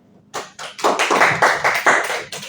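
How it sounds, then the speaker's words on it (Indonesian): A small class bursts into brief applause in a church catechism lesson, a quick flurry of close hand claps rising and tapering over a couple of seconds. "Tepuk tangan ya."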